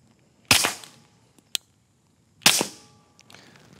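A PSA Dagger pistol fires two loud, sharp shots about two seconds apart, each trailing into a brief echo, with small metallic clicks of the slide and trigger in between.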